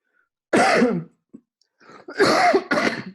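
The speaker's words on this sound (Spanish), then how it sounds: "tengo una tos estos días y no es coronavirus" A man with a spring cough coughs in loud harsh bursts, one fit, a short pause, then two more close together, alone with no talk.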